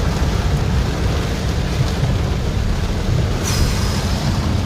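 Heavy rain falls on a car, a dense, steady hiss and patter heard from close by that stays even throughout, with no voices.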